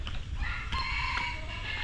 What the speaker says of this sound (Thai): มีเสียงไก่ขันนำเนาะเพิ่นเลี้ยงไก่อยู่ครับ